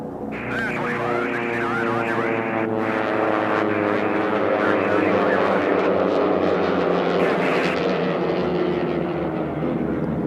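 Several T-6 propeller airplanes roar past in a national championship air race, a loud, continuous droning engine sound that swells and shifts in pitch as they pass.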